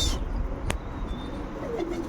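Pigeons coo softly at a distance over a constant outdoor hiss, with one sharp brief noise early on.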